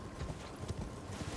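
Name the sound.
horse hooves in video game Elden Ring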